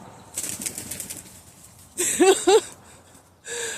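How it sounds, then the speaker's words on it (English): A flock of birds takes off with rapid bursts of flapping wings, close and fairly loud, in separate flurries with quiet gaps between. "And all these birds just went flying away."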